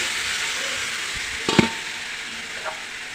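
Sizzling pan of spiced masala as washed guar beans and potatoes are tipped in, a steady hiss broken by a clattering drop and scrape of utensil around the middle, then a faint knock.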